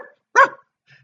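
A voice imitates a single sharp dog bark, close and loud, with a faint trailing sound just after and no other speech.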